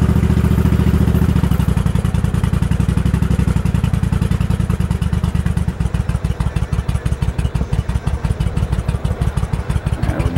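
A Suzuki Intruder 1500 motorcycle idles with the choke pulled out, a loud, close, steady engine rumble that shifts partway through into a slower, more distinct chugging pulse as the idle settles lower.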